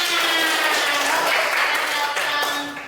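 A class of schoolchildren applauds in a classroom, a dense run of clapping close by, mixed with children's voices, fading slightly at the end.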